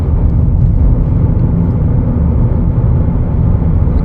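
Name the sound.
2025 Chevrolet Equinox LT driving on test drive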